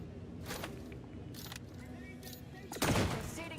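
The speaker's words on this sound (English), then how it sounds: "Let's throw a bio grenade in there." A bio grenade thrown in a shooter video game, heard as a few muffled thumps followed by a loud burst of blast near the end, with game noise in the background.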